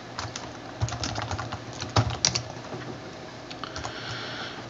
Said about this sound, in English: I'll type and I'll write in command what I'm doing.